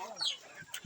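Baby chick peeping in a small bird enclosure, a few thin high chirps close by over faint background noise, with a brief low thump near the end.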